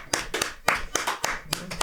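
A few people clap at the end of a casual group podcast, giving a handful of sharp, uneven claps spread over about two seconds in a small room.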